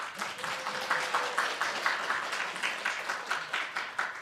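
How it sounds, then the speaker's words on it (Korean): A church congregation gives a welcoming round of applause for a guest pastor at a Sunday service, a steady, moderately distant patter of many hands clapping with a faint tone briefly underneath. "말씀 듣기 전에 우리 환영의 박수 한번 좀 부탁드리겠습니다"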